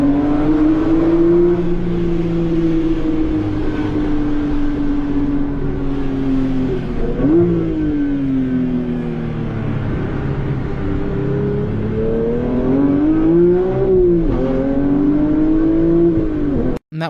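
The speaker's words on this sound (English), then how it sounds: "So here is a video of the car that I drove." Car engine revving and accelerating as the car is driven, loud and continuous with rising and falling pitch sweeps, heard alone without talk.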